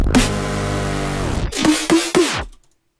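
Glitchy electronic audio bends downward in pitch through a pogo effect, a dense smeared tone for about a second and a half, then three or four choppy stuttering hits before a tape stop drags it down into silence.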